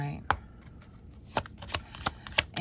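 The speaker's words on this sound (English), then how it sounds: "we're just going to give you one more good shuffle" Tarot cards being shuffled by hand, giving a series of crisp riffling slaps and snaps spaced unevenly, close and fairly loud, with no talking over them.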